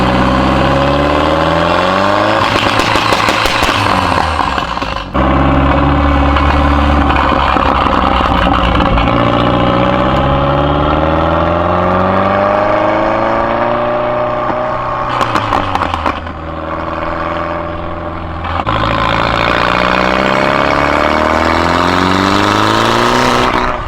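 An Audi TT engine runs continuously while warming up, its tone rising and falling as the revs climb and settle, loud and close, with brief harsher bursts, and no talking.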